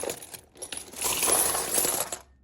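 Silver coins from around the world, including Mexican silver, clank and jingle together in a dense, continuous metallic rattle, building louder in the middle and then stopping, with no talk.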